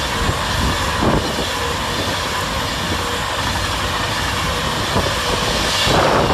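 An Avanti West Coast Class 390 Pendolino, unit 390-137, speeds through the middle of Crewe station, a loud sustained rushing roar with rumbling wheel noise and periodic rail-joint thumps, swelling again near the end.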